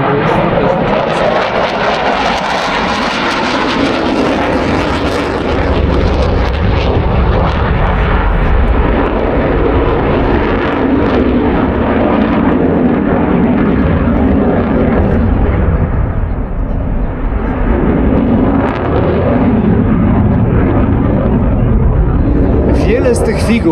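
Aircraft flying aerobatic figures at the Radom air show in 2023, a loud continuous engine roar that swells and fades while a voice keeps talking over it throughout.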